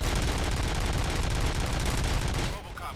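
Sustained gunfire from a firefight in RoboCop Rogue City on PS5, a dense, loud roar of rapid shots and bursts that runs continuously before cutting off abruptly near the end.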